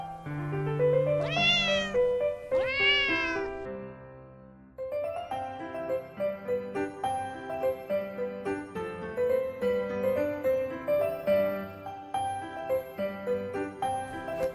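A cat meows twice in a drawn-out, clear and close way, followed by a bright, tinkling melody playing steadily.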